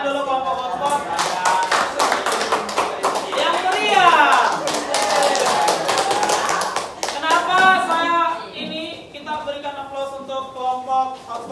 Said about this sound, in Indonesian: kita berikan tepuk tangan dulu kelompok hotspot